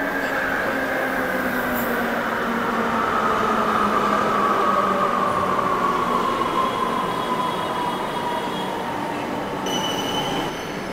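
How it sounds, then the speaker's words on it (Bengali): A Kolkata Metro train pulling into the platform at Noapara station, a loud continuous rumble with long high wheel squeals that slide downward as it slows, close and alone. "ট্রেনটা প্ল্যাটফর্মে ঢুকছে।"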